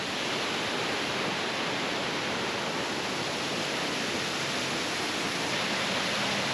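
Constant roaring rush of Sol Duc Falls in Olympic forest, loud and unbroken, filling the whole scene with no other sounds.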